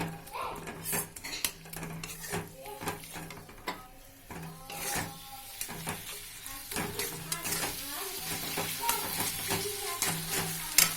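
Eggplant and spices stirred in a frying pan: a metal utensil repeatedly scrapes and clinks against the pan in quick irregular strokes over a steady close sizzle, with no talking.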